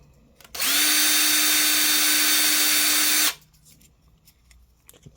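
Handheld rotary tool spinning up to polish black coating off a knife's metal button, a loud steady high-pitched whine lasting nearly three seconds, then cutting off into quiet workshop handling noises.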